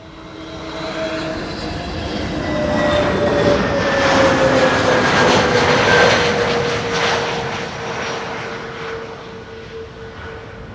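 A jet airliner passes overhead near Schiphol airport, a loud, steady roar that swells to a peak midway and then slowly fades, its whining engine tones gliding downward as it moves away.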